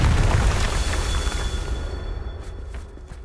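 Confringo fire spell explosion in Hogwarts Legacy, a loud deep boom that rolls and decays over a few seconds, close and heavy, followed by faint light pops, with no speech.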